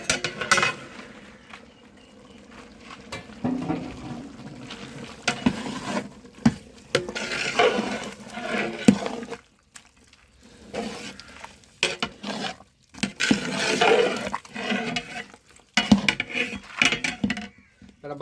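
Mutton biryani boiling in a large pot, about 6 kg of meat cooked for a crowd, being stirred with a ladle. It gives repeated scraping, clattering stirs against the metal pot over a steady background bubble and hiss, with gaps between the strokes.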